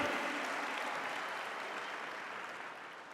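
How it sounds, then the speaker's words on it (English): Faint, distant round of applause from a convention audience, a continuous wash of clapping that slowly fades, with no voices over it. "Give a round of applause to the front row, please"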